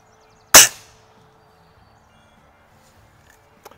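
A single RWS Diana 34 air rifle fires a Norma pellet in a backyard, one sharp, loud crack with a short ringing decay, then near silence and a faint distant tick.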